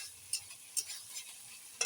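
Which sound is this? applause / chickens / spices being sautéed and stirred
spices being sautéed and stirred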